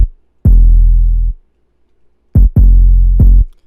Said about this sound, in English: I added this 808 out of Hologram Volume 3 drum kit.